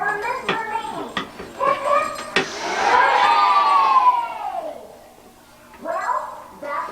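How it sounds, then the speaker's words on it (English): A young audience at a Santa's workshop Christmas play breaks into a loud, high cheer and shout lasting a couple of seconds, with talk before and after it. "Let's have a big cheer for Mr. Meany."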